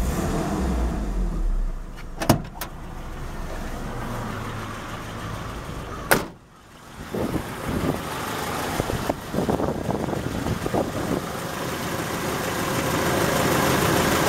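1995 Nissan D21 Hardbody pickup engine idling smoothly after a fuel filter change, a steady close rumble with a couple of sharp clicks and a brief dip partway through, no talking.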